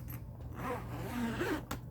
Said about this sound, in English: Let's open up this double zipper and take a look.